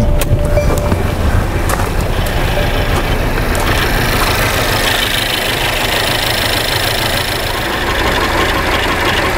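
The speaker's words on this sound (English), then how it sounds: "So let's go ahead and start this engine up." A 2015 Mercedes 300C engine cranks, catches and settles into a steady, close idle with a slightly knocking, rumbling tone, loud and continuous for about nine seconds.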